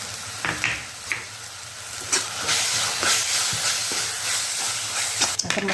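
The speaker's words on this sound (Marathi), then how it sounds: "हे टाकून आपल्याला परतून घ्यायचं आहे" Coriander powder, turmeric, salt, red chilli and black masala sizzle in hot oil, a loud steady hiss with repeated scraping stirs of a spoon in the pan, close up.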